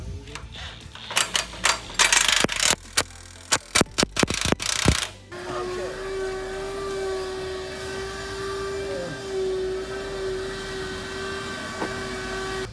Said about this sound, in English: we're gonna go ahead and put these front sway bar brackets on, and we'll mount those to the frame rail.